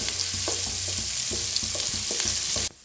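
Chopped onion sizzling in oil in a pan, a constant crackling fry broken by rhythmic scrapes and knocks of a spatula stirring, close and loud, ending abruptly.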